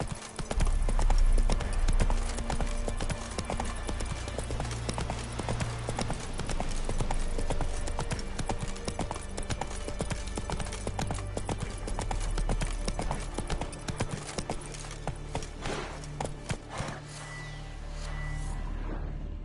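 Hooves of Roach, the horse in The Witcher 3, clip-clop in a steady rhythmic gait for the whole stretch, loud and close, with game ambience and brief voices from characters in the background.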